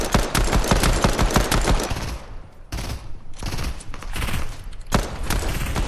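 Shooter-game gunfire rattles in fast automatic bursts, loud and close, pausing briefly before more volleys resume, with no talking over it.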